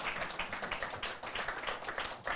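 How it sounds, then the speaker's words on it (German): Scattered applause from a small gathering at a guesthouse in Seiersberg, soft and close, with uneven clapping that pulses through the short stretch and no voices. "ein bisschen Applaus für einen Bürgermeister"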